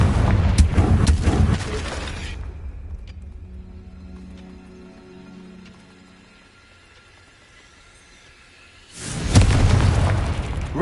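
A Confringo fire spell explodes in Hogwarts Legacy, a loud rumbling blast that fades into a quieter low hum, followed by another loud burst near the end.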